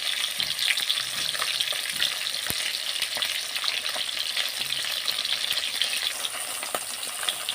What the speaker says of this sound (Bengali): মাছগুলো এবার আমি উল্টে নেব।